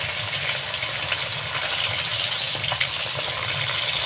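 Parshe fish frying in a pan for a Bengali fish curry, a steady close hiss and sizzle of hot oil throughout, with faint crackles and no talking.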